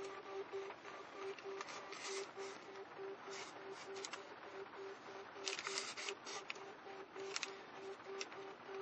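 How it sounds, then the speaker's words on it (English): A Launch X431 automotive diagnostic scanner's built-in thermal printer printing out a procedure: quiet, irregular bursts of buzzing and ticking with a steady faint whine underneath, and no one talking. "I love this because it's a thermal printer. You just put paper into it and it just burns the procedure on there."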